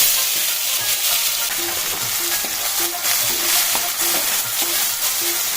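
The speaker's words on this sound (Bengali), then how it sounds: "পেঁয়াজটা হালকা ভাজা ভাজা হয়ে যাবে, টমেটোটা হালকা ভাজা ভাজা হবে" Chopped onion and tomato fry in a pan over low flame for a mutton curry, a loud steady sizzle broken by regular scraping stir strokes, with no talking.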